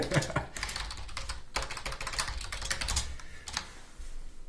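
Rapid typing on a computer keyboard, with dense irregular clicks and a few sharper key strikes, continuous and close throughout, no voices.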